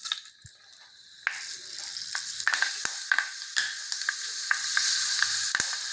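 Fenugreek seeds frying in sesame oil in a kadai, a steady close sizzle with scattered sharp crackles and pops throughout.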